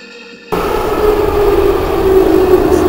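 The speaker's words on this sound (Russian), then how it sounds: "Осторожно, двери закрываются." A Moscow metro train on the Tagansko-Krasnopresnenskaya line closes its doors and departs, a sudden steady loud rumble starting after a brief quieter moment and building as the carriage moves off.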